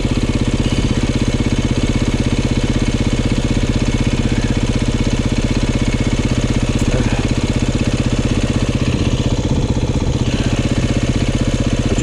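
A dirt bike engine runs off-road at high RPM with constant clutching and throttle, giving a loud, unbroken mid-pitched drone close to the microphone throughout, with no talk over it.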